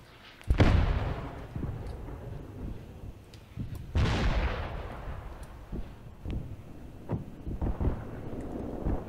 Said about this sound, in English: This gun, is it shooting? I think it is, but they are already receiving counter-battery fire.